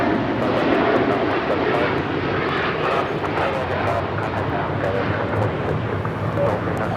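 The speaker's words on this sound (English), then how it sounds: "That was United 231 taking off to London Heathrow, a 787-9 Dreamliner." A United Boeing 787-9 Dreamliner takes off from Los Angeles on a departure to London Heathrow, its jet engines a loud, steady broadband roar that holds throughout with a faint voice under it.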